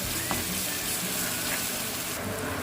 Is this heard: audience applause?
no